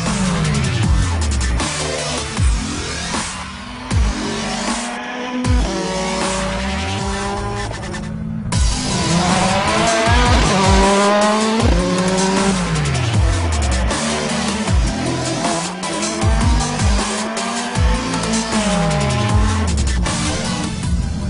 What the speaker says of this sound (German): Doch zuvor will Matthias natürlich auch Sebastians VW Polo RWRC Probe fahren.